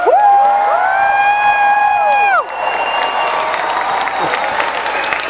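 A convention crowd of about 5,000 people cheering and whooping at MINECON 2011, a loud, sustained roar of voices with applause. Shrill, sweeping whoops stand out at first before it settles into a dense crowd wash.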